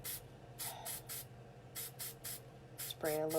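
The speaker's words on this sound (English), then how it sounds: "spray a little bit." A spray bottle mists liquid onto a glitter tumbler in a quick series of about eight short, soft hissing bursts, followed by a brief voice at the end.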